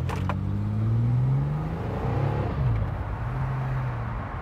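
A GMC Syclone pickup accelerating hard, its engine note climbing steadily with a rising whine, then dropping as it shifts and climbing again, fairly close and continuous.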